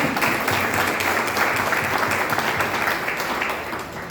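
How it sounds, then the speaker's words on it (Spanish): Sustained applause from an audience at a book presentation, a steady even roar of many hands clapping that fades slightly toward the end. "pido un fuerte aplauso"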